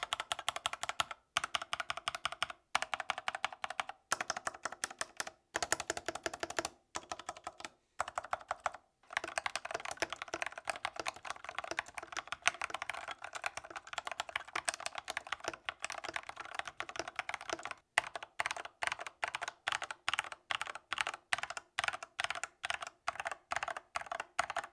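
Rapid typing on a Lofree 1% Transparent mechanical keyboard, dense clacking keystrokes in bursts with a few short pauses, close and clear.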